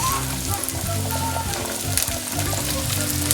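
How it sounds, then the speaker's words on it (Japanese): Onions frying in butter in a frying pan give a steady, close sizzle with faint stirring crackles and no talk. "フライパンに火をつけてバターを入れます。 玉ねぎ炒めます。"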